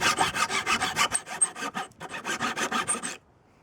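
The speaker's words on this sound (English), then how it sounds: "you can just take a coarse file or whatever file. Just clean out the edges there" A coarse file rasping the edges of a cut wooden prop spear: about sixteen quick, steady back-and-forth strokes, close and clear, with a brief pause midway before the filing stops.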